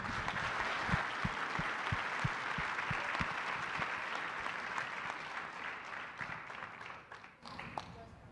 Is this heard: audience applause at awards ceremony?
yes